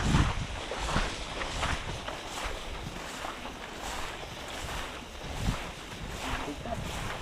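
A motorboat travels across open water, its engine a muffled drone under strong wind buffeting and splashing, with occasional voices faintly in the background.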